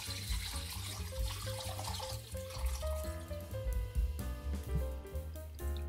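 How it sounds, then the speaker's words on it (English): Water runs and splashes steadily into a bowl of chicken wings and baking soda nearby, a continuous pouring sound with light clinks. "Put water until it covers and mix well the baking soda."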